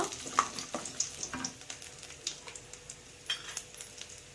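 Garlic cloves, peeled and left whole, fry in a pan for brinjal curry with a soft sizzle, while repeated light scrapes and taps of a stirring utensil pulse at a quick, even rhythm, faint and close, with no voices.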